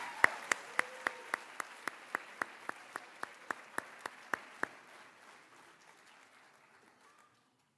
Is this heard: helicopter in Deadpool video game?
no